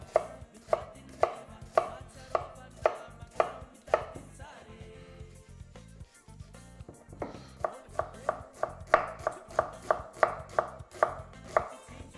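A knife chops red onion on a cutting board in a kitchen, a rapid, evenly spaced series of close, crisp thuds that pause briefly midway and then resume at the same steady rhythm.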